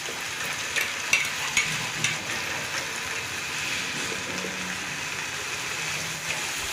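Chicken pieces sauté with curry powder in a pan, a continuous sizzle and fry with occasional stirring scrapes and soft clatters, close and moderately loud, no talking.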